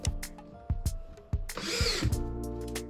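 A power drill drives 1.25-inch drywall screws into a drywall patch over a large wall hole. Several short, sharp bursts come in quick rhythm, then one longer run of the motor.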